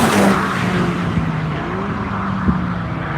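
A Honda race car on BF Goodrich Phenom tires sweeps past on track at NCM, a steady mid-distance engine drone with a faint tire squeal and brief bumps, loud and without talk.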